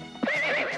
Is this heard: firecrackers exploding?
no